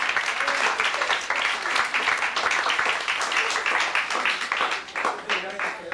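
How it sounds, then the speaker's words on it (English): An audience breaks into a long round of applause, dense clapping throughout, with some cheering and voices mixed in. "I think we should all take another moment to give ourselves a round of applause"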